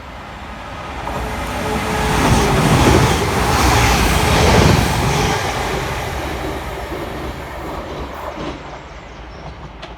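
A West Midlands Railway Class 196 diesel unit powers through a station, its rumble building from a distance to a loud, close roar mid-pass, then fading steadily as it moves away.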